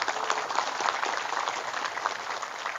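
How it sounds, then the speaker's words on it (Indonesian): Sustained, dense audience applause at a patriotic Nahdlatul Ulama gathering in Indonesia, steady and fairly close, a full crowd clapping evenly without a break. "Tepuk tangan dulu."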